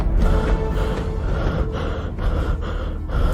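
A man panting and gasping for breath after running and falling down stairs in a Hindi horror story, heavy ragged breaths repeating continuously and close, loud against a low rumbling background.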